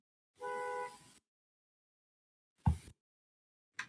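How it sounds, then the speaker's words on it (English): A car horn blares once in a steady tone lasting nearly a second, followed by silence and then two short, sharp thuds. "When you hear a car honking in the background."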